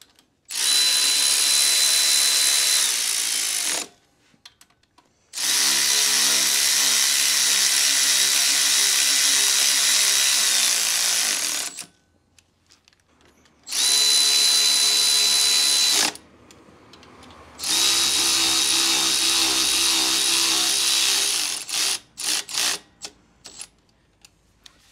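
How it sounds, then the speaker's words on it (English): A power tool drives fasteners while a Wilbers Nivomat shock is fitted to a Harley-Davidson Road King Special, giving four long, steady, loud whirring runs with short pauses between them and no voices. "if they are, we can use the power tool"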